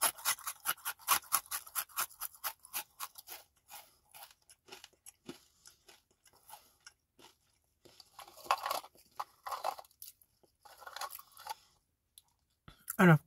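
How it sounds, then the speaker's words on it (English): Rapid crunching of a garlic herb crostini up close, a quick rhythmic burst of crisp chews at the start that slows into scattered, softer bites with brief mouth sounds. "And let's do a fast crunch."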